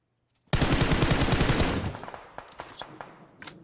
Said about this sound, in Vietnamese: Mà bọn bên kia nó cứ bắn em anh à.